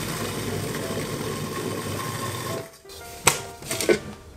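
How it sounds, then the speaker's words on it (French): Food processor blending hazelnut paste with melted chocolate, a steady motor whir running for over two seconds before cutting off, followed by a few clattering knocks. "Je vais mixer."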